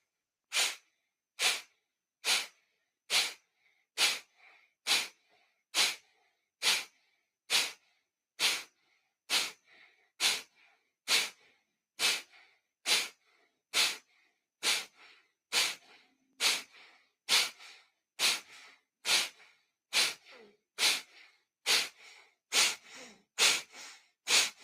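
Rapid, rhythmic Breath of Fire breathing during a guided meditation practice, sharp forceful exhales about one per second repeated steadily for the whole stretch, close and fairly loud, with no talking.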